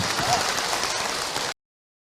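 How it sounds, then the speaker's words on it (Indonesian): Applause from an audience of women at an Islamic talk, clapping for a preacher; dense, steady clapping throughout, then cutting off abruptly into silence. "Sekali lagi boleh Bu tepuk tangan untuk Ahilman ya"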